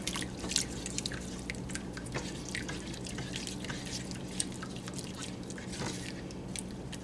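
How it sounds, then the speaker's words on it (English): Thick blueberry BBQ sauce made with jam being stirred in a pot, giving a steady run of soft wet clicks and squishy drips close by, with no talking. "I'm just going to stir this up good."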